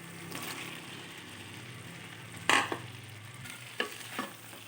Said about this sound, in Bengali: এবার সবগুলো উপকরণ খুব ভালোভাবে আমি আবারও কষিয়ে নেব।